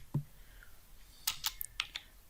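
A few scattered clicks on a computer keyboard, one dull tap then a short cluster of three or four sharper keystrokes, close and fairly quiet with no speech.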